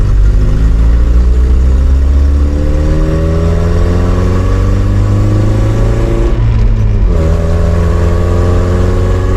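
A vehicle engine on Highway 21 in Idaho, loud and close, climbing in pitch as it accelerates, dropping sharply at a gear change, then climbing again in the next gear.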